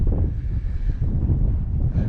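Steady, loud wind buffets the microphone on an exposed mountain summit at Helm Crag, a continuous low roar with gusting swells and no pauses.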